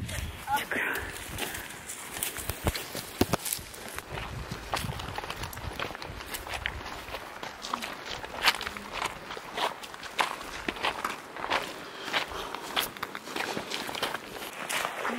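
Barefoot footsteps crunch steadily along a gravel and sand trail beside a river in the Gila National Forest, New Mexico, with a close, continuous rhythm under occasional speech.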